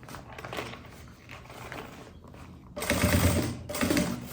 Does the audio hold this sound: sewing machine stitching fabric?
yes